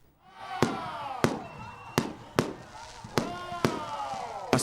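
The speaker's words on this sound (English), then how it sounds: "A spectacular display of fireworks lit up the skies over Mahmuda village as the National People's Party marked the events." Fireworks exploding over a village celebration marking a political party event in Mahmuda village. Seven sharp, loud bangs come at fairly regular intervals, each followed by a ringing, crackling tail.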